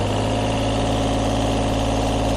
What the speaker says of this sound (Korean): 조금 더 고 RPM으로 올려서 어, 엔진 소리 어, 같이 한번 들어보도록 하겠습니다